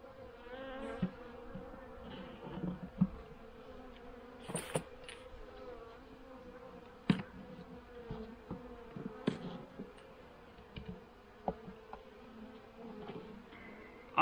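Honey bees at a late-September hive treated with Formic Pro, with a sparse bee population, buzz steadily and close up throughout, broken by occasional clicks and knocks.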